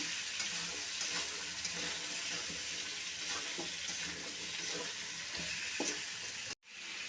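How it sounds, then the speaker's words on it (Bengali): Steady, dense sizzling of potato pieces frying in a hot pan, continuous and close, with faint scraping clicks, cutting off abruptly near the end. "আলুটা একটু ভেজে নেব"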